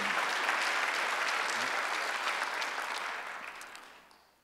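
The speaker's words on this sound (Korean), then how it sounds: "시험 박수 한번 해주세요." A church congregation at a Sunday worship service applauds together in a steady, dense burst of clapping that fills the room, then gradually fades out near the end.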